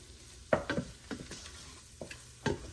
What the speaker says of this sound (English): Add that in and mix it up until everything's thoroughly incorporated